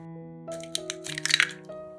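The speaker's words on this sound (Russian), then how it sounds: "В миску разбиваем 2 яйца." Close crunching and cracking of two eggshells into a bowl, a few quick crisp snaps followed by a wet drop, over faint steady background music.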